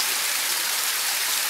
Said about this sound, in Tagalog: A lot of mini waterfalls here guys.